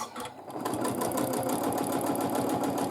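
A sewing machine runs steadily during free-motion quilting of feathers, a close, even mechanical whir with a rapid, regular needle clatter throughout.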